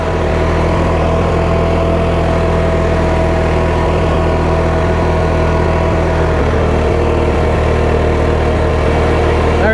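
An Allis-Chalmers CA tractor engine runs at a steady idle at an outdoor Allis-Chalmers show, its low, even chug holding loud and continuous throughout, with no talk over it.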